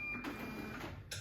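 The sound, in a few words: label printer printing a label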